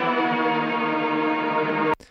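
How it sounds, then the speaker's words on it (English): Pitched-down ambient synth texture in an EDM drop, a dense sustained harmonic drone held steadily for about two seconds before cutting off abruptly, with no voices. "The B part has a cool ambient sound"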